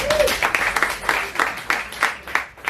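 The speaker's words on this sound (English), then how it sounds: "Round of applause for Claire." Short burst of clapping from a modest audience at a sustainability panel event, individual claps audible in an uneven rhythm that trails off after a few seconds, with a faint voice at the start.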